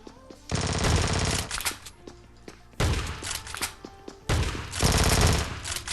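Rapid bursts of gunfire in the Scarfall 2.0 mobile shooter game, several loud close volleys separated by short gaps, with thuds between them.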